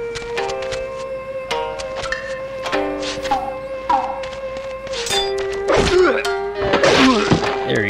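Sword strikes in a samurai video game land as a string of sharp metallic hits and thuds, with ringing tones, grunts and game sounds building toward a busier flurry near the end.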